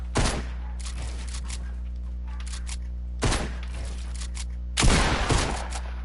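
Pump shotgun fire in the video game Fortnite: three sharp, loud blasts spaced a second or more apart, each with a short crackling tail, over a steady low in-game hum.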